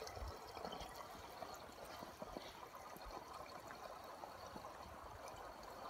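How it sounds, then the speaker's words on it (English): Gasoline poured from a Giant Loop fuel bag through a spout into a vehicle's tank: a faint, steady liquid gurgle and trickle that runs continuously. "put the spout in your vehicle, and lift up the fuel bag"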